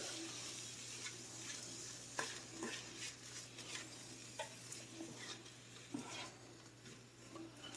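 A spoon stirs a cauliflower stuffing mixture in a softly sizzling pan, the scraping strokes faint and irregular over a low, constant frying hiss, with no voices.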